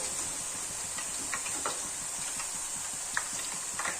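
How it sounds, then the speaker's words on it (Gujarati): Thin potato wafers frying in very hot oil: a dense, steady hiss of bubbling oil with scattered light crackles and occasional soft stirring taps, close by and without speech. "એકદમ ગરમ તેલ હોય ને તેમાં જ આ વેફર નાખવાની અને ફટાફટ તળી લેવાની"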